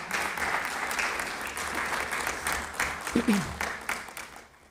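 A city budget address audience breaks into sustained applause, a steady wash of many clapping hands at moderate level, with a brief voice cutting through near the end before the clapping fades.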